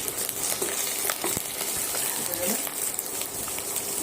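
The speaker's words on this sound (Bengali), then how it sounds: "পেঁয়াজ কুচানো কাঁচা লঙ্কা ব্রাউন কালার করে ভেজে নিয়ে" Chopped onion and green chilli fry in hot oil, a dense close sizzle with occasional clicks and stirring, a voice faintly present underneath.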